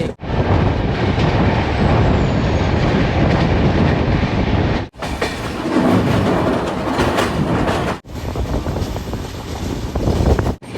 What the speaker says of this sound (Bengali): এই আমাদের ট্রেন এবার ঢুকছে কামাখ্যায়